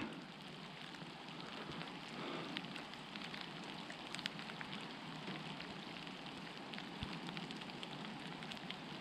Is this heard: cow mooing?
no